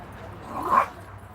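A neighbor's small dog gives a single short yelp or whine outdoors on a patio, brief and moderately close against quiet background.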